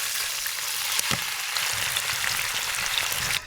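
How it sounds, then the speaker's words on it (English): Garden potatoes tossed with spices fry in oil in a pan over a fire, making a loud, dense, continuous sizzle close by, with a brief crackle and a sharp clatter near the end, and no talking. "I have a pan going with some oil and some potatoes from the garden that we just threw some spices on"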